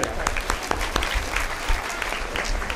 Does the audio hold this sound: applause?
yes